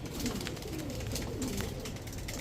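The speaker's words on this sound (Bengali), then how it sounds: "গোল্লা কবুতর।" Golla pigeons, several paired birds kept in a loft, coo in low, soft rolling calls that repeat steadily over a continuous close background of shuffling and ambient noise.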